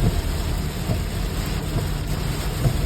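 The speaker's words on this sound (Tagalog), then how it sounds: "nasalubong natin yung malakas na ulan" Heavy rain in Saipan roars steadily and loudly throughout, a dense continuous wash of noise with a low rumbling undertone.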